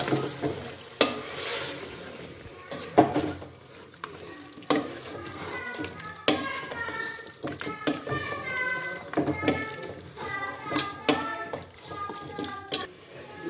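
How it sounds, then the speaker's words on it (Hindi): Chicken frying and being stirred with spices such as ground coriander in a pan, a steady sizzle broken by repeated scraping strokes, with faint talk in the background. "दो से 3 मिनट हम चिकन को अच्छे से मसालों के साथ भून लेंगे।"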